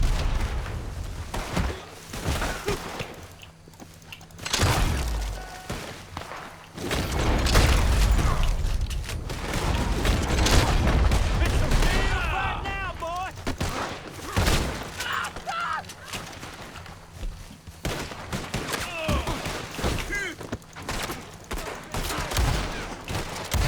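Gunfire in a video game, rapid bursts and thuds with shattering and mechanical clatter over roughly twenty seconds, mixed with players talking.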